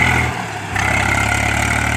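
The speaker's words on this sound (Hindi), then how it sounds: "और ये है ट्रैक्टर, सामने ये खड़ा हुआ है इंडिया का नंबर 1 ट्रैक्टर स्वराज।" A Swaraj tractor engine idles in a field in Bareilly, a steady, close diesel rumble with a low throb that dips briefly, then settles back to an even running note.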